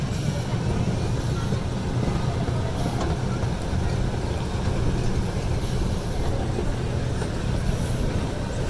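An amusement park train ride at Lake Winnie rolls along with a continuous, even rumble and rattle of wheels and cars, steady and fairly loud throughout with no talking.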